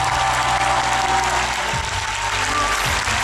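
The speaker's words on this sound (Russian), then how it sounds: "И хочу аплодисменты!" A theatre audience at the finale and curtain calls of a stage show applauds, producing dense, steady clapping that fills the whole stretch, loud and sustained with no pauses.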